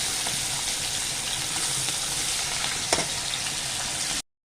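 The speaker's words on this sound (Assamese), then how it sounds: "মোৰ মাছ ফ্ৰাই কৰা হৈ গৈছে" Fish pieces frying in mustard oil in a wok, a loud, dense and continuous sizzle held steady for about four seconds before cutting off abruptly, with no one talking.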